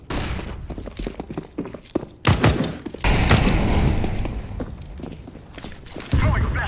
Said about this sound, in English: I'm throwing a flashback.